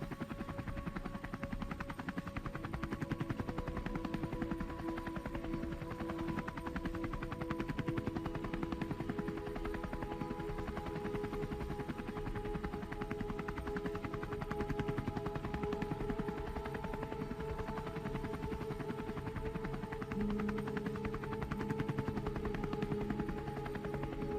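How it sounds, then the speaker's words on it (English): A 1966 Vietnam War helicopter's rotor thuds steadily and loudly throughout as it approaches and descends, its engine whine holding close overhead with no talk. "A helicopter approaches, descends, and the wounded are lifted to the forward medical station."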